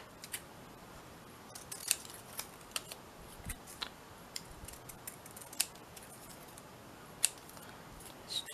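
Scissors snip paper for a mixed media canvas, giving a series of short, sharp, close cuts at irregular intervals over a quiet background.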